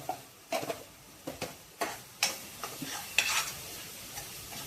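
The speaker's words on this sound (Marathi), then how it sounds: "हे आपण चांगलं परतून घेऊया परत" Masala paste is sautéed in a pan for a spicy pea usal: repeated spoon scrapes and stirring strokes at an uneven rhythm over a low sizzle, close by and fairly quiet, with no speech.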